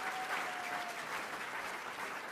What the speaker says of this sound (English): Let's give Ana another round of applause for that incredible performance.